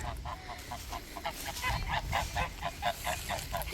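Farm geese honk in a rapid, repeated series of close, loud nasal calls that overlap with one another across the whole stretch, set against light outdoor background noise.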